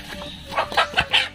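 A chicken being caught for roasting lechon-style in a home kitchen clucks in a few short, close squawks and clucks with no one talking over it.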